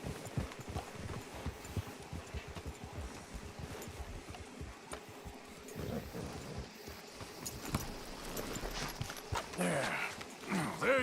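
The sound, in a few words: horse hooves from a video game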